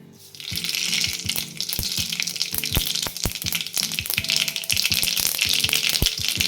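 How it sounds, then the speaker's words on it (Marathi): Mustard seeds crackle and pop in hot oil for a Marathi-style tempering, with a loud steady sizzle and rapid irregular snapping bursts close up, no voices. "तेल आता चांगलं तापलं आहे आपलं आता आपण फोडणीला मोहरी घालते"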